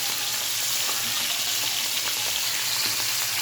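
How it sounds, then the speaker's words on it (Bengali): Fish frying in a pan, with a steady, dense crackling sizzle that stays loud and even throughout, close up and with no voices. "আর এদিকে মাছ ভাজি হয়ে যাচ্ছে"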